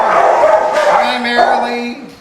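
Mixed breed dogs bark and yip at a rescue kennel, several sharp close barks followed by a drawn-out whine, with people talking underneath.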